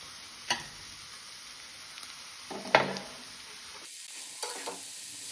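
A spoon stirs shredded cabbage and grated carrot frying with onion in a pan for momo stuffing, a soft sizzle under a few sharp scrapes and taps against the pan, close and fairly quiet.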